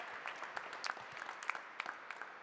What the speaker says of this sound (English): So let's give him applause.